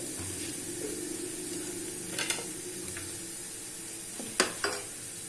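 Garlic and ginger fry in a pan with a steady, close sizzle and hiss, broken by a few sharp scraping stirs of a utensil. No one speaks.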